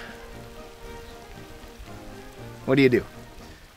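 Steady rain falls on a cold, miserable outdoor shooting range, a soft even patter throughout, with someone speaking briefly near the end over a louder burst.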